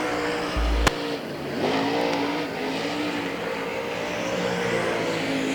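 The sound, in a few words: race car driving a lap at Hagerstown Speedway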